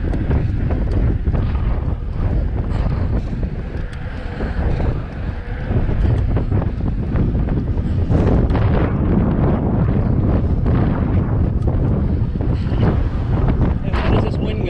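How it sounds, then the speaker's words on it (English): Strong, steady wind buffets the microphone throughout, a loud low rumbling roar with gusty surges on an outdoor drive near a lake. "When is this wind going to stop?"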